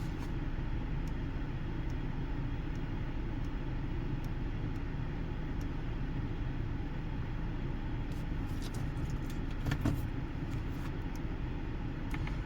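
A 2026 Honda CR-V EX-L sits idling, a faint steady low hum and rumble heard from inside the cabin, with a few light clicks near the end and no talking.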